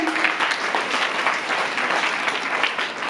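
An audience at a girls' school quiz competition claps steadily for a contestant, a dense, even wash of applause that runs the whole way through without a break.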